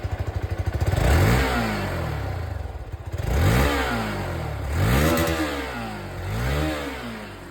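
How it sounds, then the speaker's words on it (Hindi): A Hero Xtreme 200S 4V motorcycle (2023, E20) revs through its stock single exhaust, the engine climbing and falling in several repeated throttle blips from a steady idle, close and fairly loud with no talk. "सबसे पहले यहाँ पर आप लोग एक्सट्रीम का जो आवाज़ है वो सुन लीजिए।"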